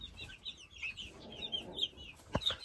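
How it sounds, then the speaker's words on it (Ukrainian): Marans chickens, roosters and hens, cluck and squawk in short, scattered calls close by in a poultry yard, one brief louder knock or thump near the end, with no talk. "Ну, знову всі півники маранів."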